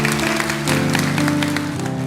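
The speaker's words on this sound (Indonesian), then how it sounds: "kasih tepuk tangan untuk Tuhan Yesus." A church congregation applauds during a worship service, dense steady clapping with sustained musical tones running beneath it throughout.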